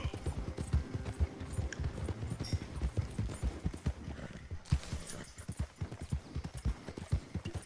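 Horse hooves clip-clopping in Red Dead Redemption 2, a steady close rhythm of hoofbeats at a walking to trotting pace, with a brief shift in surroundings partway through.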